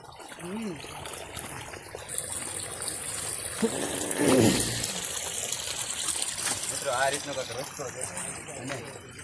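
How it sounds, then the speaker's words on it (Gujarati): Rainwater flows down a forest path on Datar Hill near Junagadh in the early monsoon, a steady gushing trickle close by, with someone talking over it and a brief louder splash midway. "આ રીતનું પાણી આવે છે આગળથી અને રસ્તામાં જ જતું હોય"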